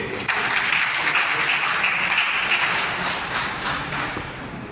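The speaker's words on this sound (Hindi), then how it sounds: "एक बार जोरदार ताली बजाइए अपने लिए" Participants at a divisional career counseling session in Ujjain clap loudly for themselves, a thick, continuous burst of many hands that stays even and fairly close before tapering a little at the end.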